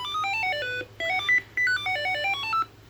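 An Omnibot robot toy plays a quick electronic melody of bright beeping tones in short phrases with brief gaps, close and clear, and no talking.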